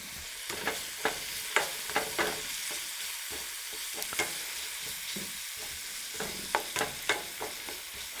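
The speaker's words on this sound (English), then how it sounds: "Frying the spice really brings it to life" Garam masala spices sizzle and crackle with onions in a hot pan with steady frying hiss, while a spoon scrapes and stirs in quick, repeated strokes.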